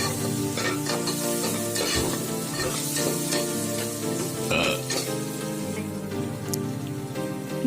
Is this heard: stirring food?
yes